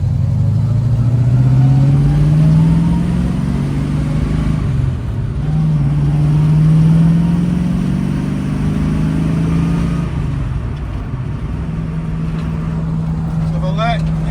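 A 1969 Pontiac Firebird with a Holley Sniper throttle-body injection system climbs a hill, its engine holding a strong, steady drone that rises and falls in pitch with throttle, close and loud.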